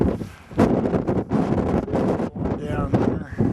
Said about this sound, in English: the wind is picked up and it's cold